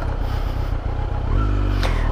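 Kawasaki Z900 motorcycle left running on an off-road trail, a close low throbbing idle that grows heavier and louder midway, with a faint scrape near the end.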